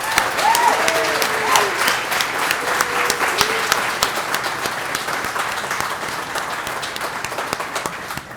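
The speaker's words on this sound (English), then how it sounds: "let's give them all a round of applause now" Sustained applause from a large audience at a hall of fame ceremony, dense steady clapping filling the room with a few faint whoops, holding at a fairly even level throughout.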